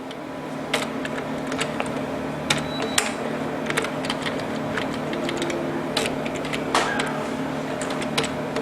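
Computer keyboard typing while entering code, scattered quiet key clicks in irregular bursts over a steady low background hum, faint and close.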